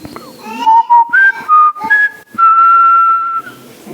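A person whistles an imitation of a blackbird's song, a run of clear, loud, sustained tonal phrases with short gaps, close to the listener and without speech.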